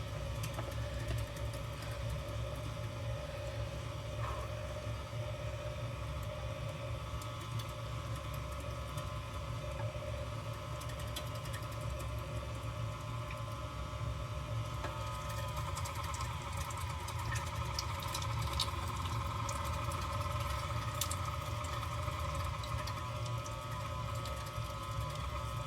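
A KitchenAid stand mixer grinds homemade sausage meat, its motor humming in a steady, even whine with a faint rhythmic knock, fairly quiet and continuous with no voices.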